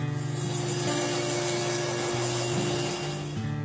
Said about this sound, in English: I'll prepare the fiberglass for the limbs and bandsaw the veneers and overlays